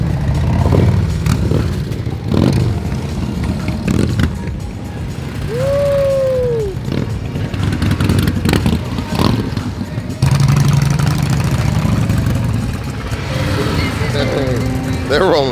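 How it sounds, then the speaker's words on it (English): Sport motorcycles, a Kawasaki ZX10 and a Suzuki Gixxer 1000, pass by with engine roar rising and fading, mixed with nearby talk and clatter. "There goes the ZX10 and the Gixxer 1000."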